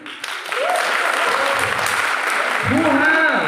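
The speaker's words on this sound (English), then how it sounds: "A good applause for them" A school audience applauds: dense, steady clapping from a crowd that fills the whole stretch, with voices calling out over it.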